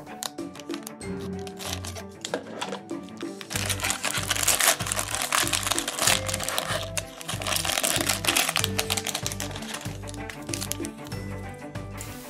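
A crinkly plastic surprise bag from a Peppa Pig toy set is handled and torn open, with continuous close crackling and rustling that grows louder midway.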